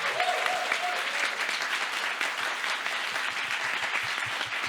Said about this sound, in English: please join me in giving a very strong round of applause to this side of the House